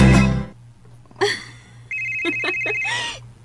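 A cellphone rings with a repeating bright electronic tone in short bursts, after a voice and with light room noise behind.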